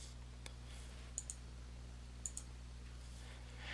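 Sharp computer mouse clicks while selecting contacts in Microsoft Outlook, a few quick single and double clicks spaced apart against a quiet room hum.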